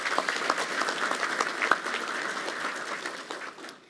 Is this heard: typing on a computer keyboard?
no